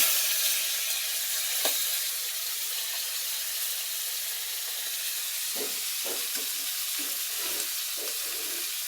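Fish frying in hot oil, a steady fierce sizzle and spatter throughout with scattered louder pops and crackles in the second half, close and alone.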